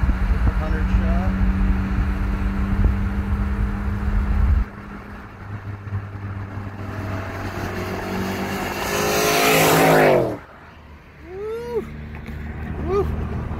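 A 2006 Chevrolet Trailblazer SS on a 100-shot of nitrous, loud and close, with its engine roaring as it accelerates hard and then dropping away as it passes, while tire noise and crowd chatter are heard.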